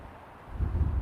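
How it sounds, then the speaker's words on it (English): Wind buffeting a microphone outdoors, starting as a faint hiss and building about halfway through into a loud, gusty low rumble that keeps pulsing to the end. "This is just super, super, super, super windy."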